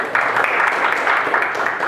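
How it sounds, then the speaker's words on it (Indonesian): A group of university students in a guidance counseling session breaks into steady, dense applause that carries on for the full two seconds, close and moderately loud. "tepuk tangan buat itu."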